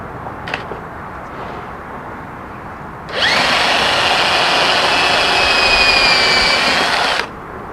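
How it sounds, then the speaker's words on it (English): A power drill bores through a pin hole during knifemaking, starting abruptly after a quiet pause and running loud, steady and high-pitched for about four seconds before cutting off. "pull out one of the pins and drill through that one."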